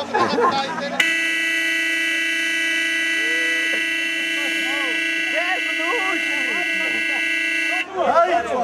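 At an off-road rally event in Adjara, Georgia, a car horn blares in one long, unbroken tone for about seven seconds while people talk underneath it.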